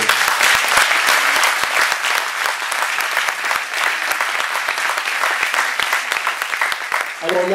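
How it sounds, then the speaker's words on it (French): Audience at a Téléthon evening in Saint-André giving sustained, loud, dense applause that continues steadily throughout, with crowd noise mixed in. "il faut aussi applaudir Jackie"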